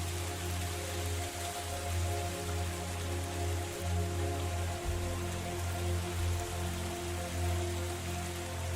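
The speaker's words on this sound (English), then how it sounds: "I'll just enjoy the music of the moonlit tavern and some rain sounds instead" Steady rain falls in an even wash of drops, heard alongside a low sustained musical hum in a quiet room, with no talking.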